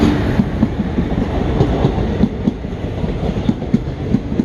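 A train pulls into a station with loud, close rumbling and a regular clickety-clack of wheels over rail joints, a steady rolling din with no voices over it.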